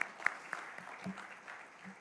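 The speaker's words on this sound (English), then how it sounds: "let's have a huge round of applause for all of them once again" Audience clapping at an Outlook Speakout event honouring women, fairly faint and uneven with a few sharper claps, a voice murmuring underneath.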